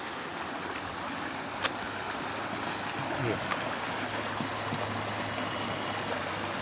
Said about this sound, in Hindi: कल कल करता प्रवाहित जल, साफ स्वच्छ